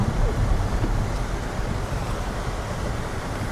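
A mountain river rushes beside a road, a dense, continuous roar of water with some wind, steady and fairly loud from start to finish.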